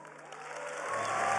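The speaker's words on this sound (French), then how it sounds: "C'est le passage le plus applaudi du discours de Marine Le Pen" Crowd applause at a Marine Le Pen political speech, a dense wash of clapping that swells and grows louder toward the end over a steady hum.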